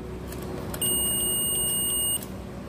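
A multimeter set to continuity gives one steady high-pitched beep lasting over a second while testing a ceiling fan fuse, heard alone over faint room noise.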